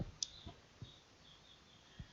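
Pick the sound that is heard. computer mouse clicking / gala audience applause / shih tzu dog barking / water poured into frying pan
computer mouse clicking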